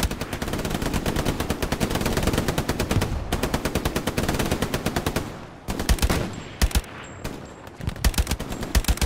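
Sustained machine gun fire in the World War II shooter Hell Let Loose rattles in long continuous bursts, then breaks into shorter, punchier volleys with brief gaps between them.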